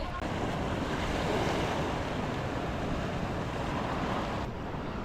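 Steady roar of ocean surf washing onto Patar Beach in Bolinao, Pangasinan, broadband and continuous, with wind buffeting the microphone throughout and no voices.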